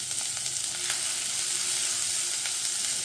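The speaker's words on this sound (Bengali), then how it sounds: "এবার ওই ঘিয়ের মধ্যে এখানে যে 1 কাপ বাঁধাকপির সাদা অংশটা কেটে রেখেছি, এই বাঁধাকপিটা একটু দিয়ে ভেজে নেব।" Cabbage, the white part cut into one cup, sizzles steadily as it fries in ghee in a pan, a close, continuous crackling hiss with no voices.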